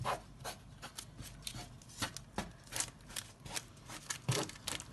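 A fork pricks holes in yeast pizza dough spread on a baking tray, making a series of quick, soft, close taps in an uneven rhythm, faint and with no talking.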